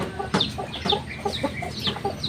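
Several chickens cluck in short, repeated bursts nearby, with scattered calls overlapping through a steady farmyard background.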